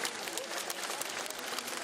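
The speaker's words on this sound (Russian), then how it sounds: "Последний путь под нестихающие овации" Mourners at a funeral procession for a singer give sustained applause, a dense and even patter of many hands that continues without pause, moderately loud, with no voices standing out.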